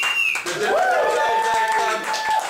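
Applause from an audience at a Las Vegas sports gathering, a dense wash of clapping that fills the whole stretch, with a voice talking over the top.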